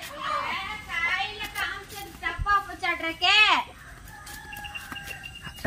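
Village chickens cluck and call in short, rising bursts close by during a morning routine, mixed in with people and someone talking.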